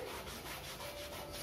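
Cricket batting pads being scrubbed to remove dust and mud, a brief, close, soft brushing rasp in quick repeated strokes, heard alone.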